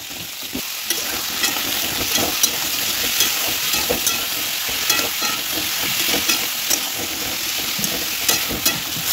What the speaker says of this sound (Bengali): তো বন্ধুরা এই যে আমি কুমড়ো ভেজে নিচ্ছি, এই কুমড়ো কিন্তু আমি মাসকলাই ডালে দেবো।